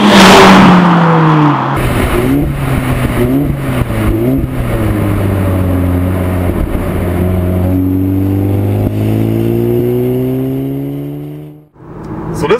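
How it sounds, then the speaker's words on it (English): A 2014 Audi S3 sedan (8V) accelerating on the road, its exhaust giving a deep, loud growl that climbs through the revs in repeated pulls, then drops away abruptly near the end. "this car here just has a deep growl, a lovely sounding exhaust"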